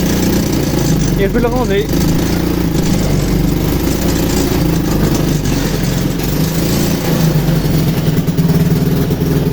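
A Kymco 250cc motorcycle engine, restarted after three years unused, runs at a steady idle with a continuous low rumble throughout, while people talk over it.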